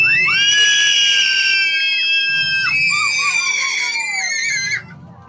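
A person lets out a long, loud, piercing scream on a count, then a second shrill scream after a short gap, both close and sustained, with faint background sound between them.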